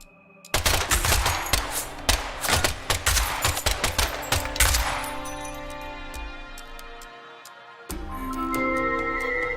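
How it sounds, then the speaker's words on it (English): Gunfire in Deadly Premonition 2: a rapid burst of sharp automatic shots, then scattered single cracks with ringing, glassy clinks as the firing tails off, followed by a low ambient hum. "the last gunshot we heard sounded ominous"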